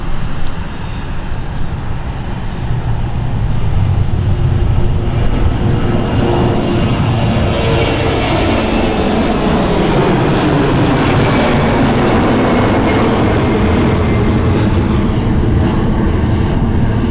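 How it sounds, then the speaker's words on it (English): A Lufthansa airliner bound for Frankfurt roars down the runway at London City airport, a loud, broad engine rumble that swells and holds steady as the jet accelerates and climbs away. "We've got Lufthansa going to Frankfurt at the moment."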